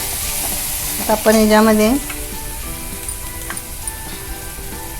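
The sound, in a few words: sautéing fresh ground masala paste in a pan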